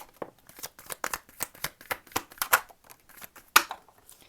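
Tarot cards shuffled by hand in quick rhythmic riffles, a run of soft papery flutters about every half second, close and clear with no talking.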